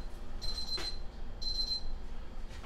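A kitchen timer alarm rings in two short bursts of rapid electronic beeping, fairly clear over a low background hum.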